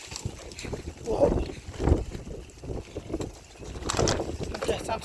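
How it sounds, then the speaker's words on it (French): Storm wind gusts outdoors, rising and falling in rough rumbling waves with buffeting against the microphone, while a person talks briefly now and then. "J'entends le vent."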